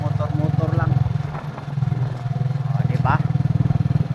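A motorcycle rides along a riverside road in Lanao del Norte, its engine a steady, close throbbing drone throughout, with someone talking over it.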